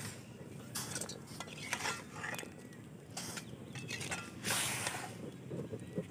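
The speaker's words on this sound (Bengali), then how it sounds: "এবার আমি একটা বাটিতে তুলে নিচ্ছি।" Half-boiled spiny gourd is lifted into a bowl, giving a few light clinks and scrapes of utensil against dish, close by and soft, amid faint kitchen background.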